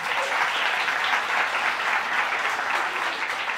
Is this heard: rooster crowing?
no